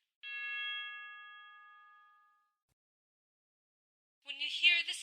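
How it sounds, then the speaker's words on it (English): A clean electronic time-signal tone rings out alone, a single sustained pure beep that decays over about two seconds, followed after silence by a brief voice. "When you hear the signal, the time will be 11:34 and 1/4."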